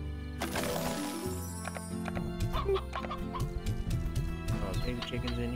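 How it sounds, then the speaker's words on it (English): Chickens clucking inside a coop in the video game Slime Rancher, a steady run of short clucks over busy low game music and ambience, with a voice talking over it. "Baby chickens in here."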